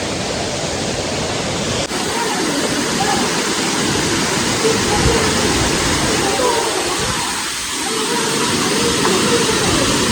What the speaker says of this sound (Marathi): इथून खाली जाते पाणी.